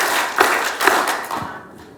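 An audience claps together on a counted cue, a few sharp unified claps in a row, then the sound fades away.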